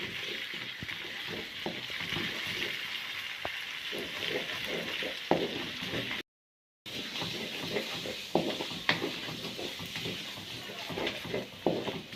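Crushed ginger and garlic fry with egg in a hot pan for chicken kothu roti, a steady close sizzle with light stirring scrapes and a brief dropout midway.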